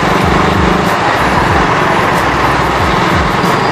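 Heavy road traffic surrounds a Yamaha NMAX 155 scooter in a loud, continuous roar with repeated engine pitch sweeps from passing vehicles.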